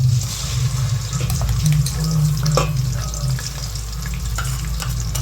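Onion and garam masala paste goes into a pan of frying crabs, producing a loud, continuous close-up sizzle with occasional stirring scrapes throughout.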